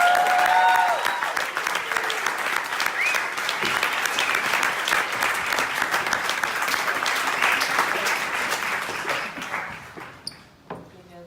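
An audience at a live spoken word show claps steadily to welcome the performer onstage, sustained applause with a few whoops that thins out and fades near the end.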